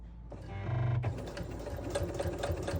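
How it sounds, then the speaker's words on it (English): A sewing machine stitches binding onto a quilted project, its steady mechanical whir starting after a brief pause and running continuously at close range. "I'm going to sew until maybe an inch or an inch and a half past that fold"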